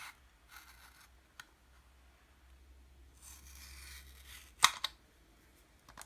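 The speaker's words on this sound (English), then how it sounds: "you can cut through the middle with a sharp knife or a razor blade" A sharp knife cuts through the plastic shell of an Elcaset cassette, a quiet scraping rasp followed by a crisp snap and a couple of faint clicks, close up and alone.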